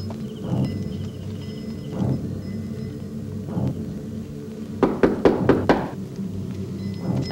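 Someone knocks on a door: scattered heavy thuds at first, then a rapid burst of five or six loud knocks, over a low rumbling background.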